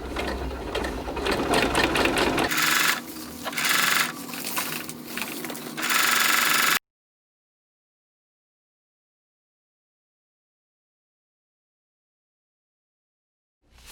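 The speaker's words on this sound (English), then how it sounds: "we put a stitch across the entire fabric, about 3/4 of an inch or 2 centimeters from the edge" A sewing machine stitches tent fabric in loud, rapid mechanical bursts, with a brief pause between runs, then goes silent for about the last seven seconds.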